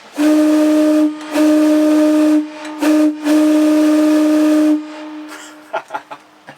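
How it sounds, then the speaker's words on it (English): Steam whistle of the ATSF 940 locomotive blows in several long, loud, tonal blasts separated by short gaps, then trails off into hissing and a few clanking knocks. "he allowed me to blow the whistle on 940"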